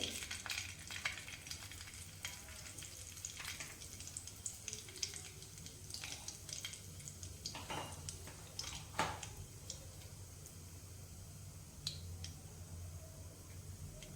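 Mustard seeds and cumin crackle and sizzle in hot oil, a steady frying hiss with scattered sharp pops and spits throughout, close and fairly quiet, with no talking.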